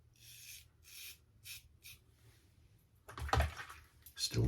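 Short raspy strokes of a OneBlade Genesis safety razor with a Feather blade drawn up the neck, about five quiet scrapes in a steady rhythm, followed by louder rinsing or handling noise.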